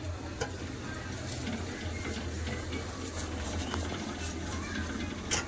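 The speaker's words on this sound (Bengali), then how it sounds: "সব ভেজে তরকারি আমার হয়ে এসছে" Curry frying in a pan, a continuous sizzle with scraping from stirring and light clinks throughout, steady and close.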